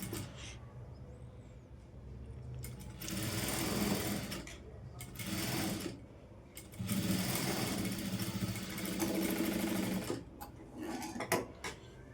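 A sewing machine runs in several bursts of varying length while stitching a folded blouse edge with piping, loud and close, with short pauses between runs and light handling noise.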